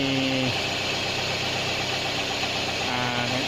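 A 2003–2006 Toyota Vios with automatic transmission idling during a gear test after a transmission fluid change, a steady low engine drone with a faint tone that drops briefly and returns.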